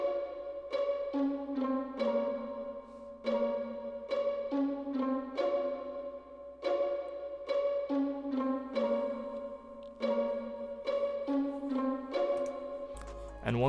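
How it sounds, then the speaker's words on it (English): Staccato string plucks from the Expand plugin tap out a simple repeating melody for an emo plugg beat. The short, bright notes stay steady and fairly quiet, with a low hum beneath and no voices. "some staccato string plucks, like what I'm using here from Expand"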